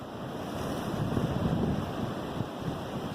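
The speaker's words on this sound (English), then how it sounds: "it's windy up here" Wind blows steadily across an exposed spot on a forest trail, a constant broad roar buffeting the microphone with gusty swells throughout, no voices.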